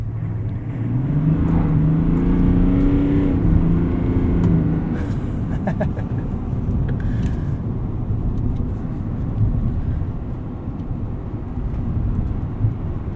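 A 2024 Chevrolet Silverado 1500 ZR2 pickup with a 3.0L Duramax diesel drives on wet roads, giving a steady, loud low drone of engine and road noise inside the cab.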